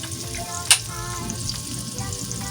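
Kangkong fritters frying in hot oil, a dense continuous close-up sizzle with one sharp pop or tap early on, steady throughout with no voices.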